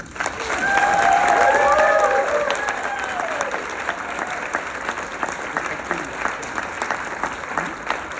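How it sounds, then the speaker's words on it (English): A crowd at an awards ceremony for finishers breaks into sustained applause, loud at first then settling into steady clapping, with brief whistles or cheers early on. "I think a big round of applause to them"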